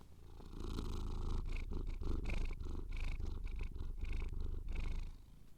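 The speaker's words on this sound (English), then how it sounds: "She's purring." Steady, rumbling cat purr close to the ear, continuous with rhythmic pulses throughout, fairly loud and without any talking.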